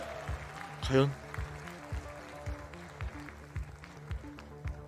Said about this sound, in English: Stop with the clapping already, all right?